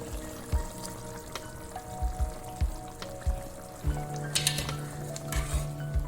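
Water poured into a pot with a soft splashing stream, along with occasional clinks and low knocks of cookware.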